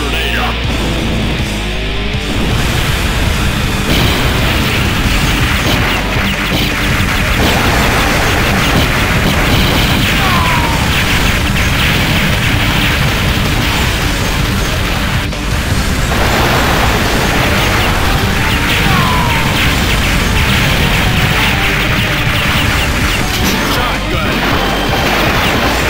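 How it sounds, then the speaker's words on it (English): Super Grenade blasts in the arcade game Metal Slug 5 burst in a loud, dense, continuous barrage of booms and crashes layered over busy game sounds for the whole stretch. "Super Grenade up!"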